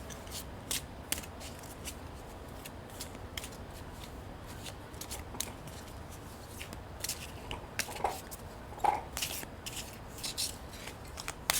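Oracle cards are shuffled by hand, a long run of quick papery riffles and flicks in irregular bursts, close and fairly quiet with no talk.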